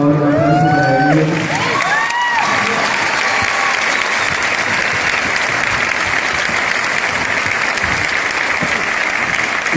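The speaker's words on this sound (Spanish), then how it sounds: "por favor, un aplauso para ellos." Enthusiastic applause for folk dancers at a live performance, a loud, dense roar of clapping with scattered cheers and whoops that runs on steadily after a brief burst of voices and tones at the start.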